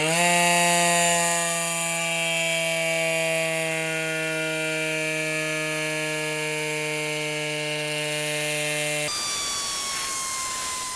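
A Flextail Tiny electric bike pump runs steadily for about nine seconds inflating a 28 mm bicycle tire, giving a loud, close, constant motor whine with a strong harmonic hum. It then cuts off abruptly, leaving faint background noise.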